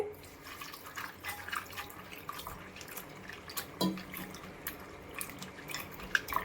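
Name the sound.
washing dried fish in water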